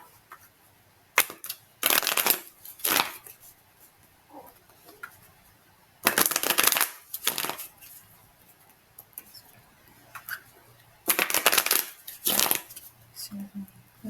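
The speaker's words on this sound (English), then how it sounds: "Just let the cards come out." A deck of tarot cards is shuffled in three separate bursts of crisp riffling and flapping, close and clear, with soft pauses between them.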